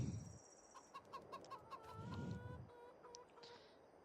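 Chickens cluck in the farming video game Farming Simulator 22, a run of short, evenly spaced clucks and a few higher calls, fairly faint in the game mix with soft low rumbles underneath.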